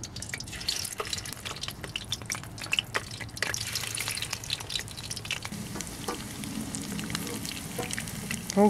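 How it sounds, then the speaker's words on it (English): Pork steak frying in hot oil, with a close crackling sizzle dotted with sharp pops and spits that settles into a denser, steadier fry toward the end. "We're gonna fry up the pork steak. Wait until the oil hot, then you put that in"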